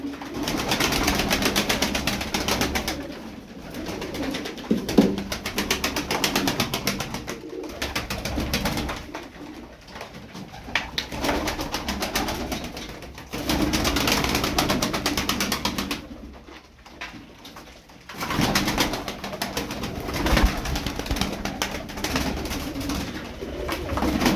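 Arabian tumbler pigeons cooing close by in a steady stream of soft throaty calls, with brief quieter gaps between bursts and a faint mechanical hum underneath.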